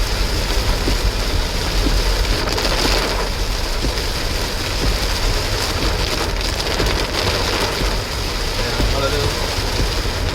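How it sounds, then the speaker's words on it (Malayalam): Heavy rain drums loudly and steadily on a car moving through hilly forest roads between Palode and Trivandrum, a dense continuous wash with engine and road noise beneath and a voice talking over it. "ഭയങ്കര മഴയാണ്"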